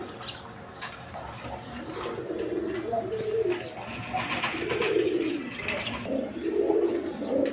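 Pigeons coo in low, throaty rolls at a pigeon sale, three or four soft calls rising over a faint background hum.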